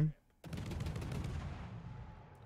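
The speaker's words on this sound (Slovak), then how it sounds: "My strelame teda tam, kde je ponorka" In a naval battle video game, a sudden loud gun blast is fired at a submarine and fades into a long, rumbling roar of continued fire.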